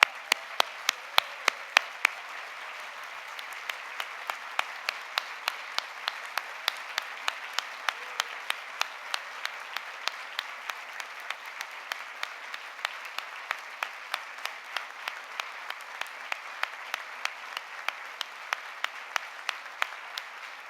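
An audience at a Sarah and James Bowdoin Day ceremony applauds scholars, a long steady wash of clapping from many hands, with a few sharp individual claps standing out near the front throughout.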